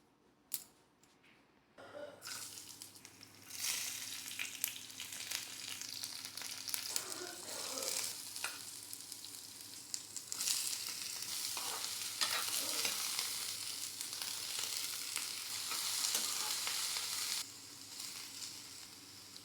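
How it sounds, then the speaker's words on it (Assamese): Small pieces of carrot fry in a pan with a soft but steady sizzle over a low background hum, spatula scrapes and clicks breaking through now and then. "গাজৰহে সৰু সৰু টুকুৰা কৰি কাটি ভাজি ল'ম"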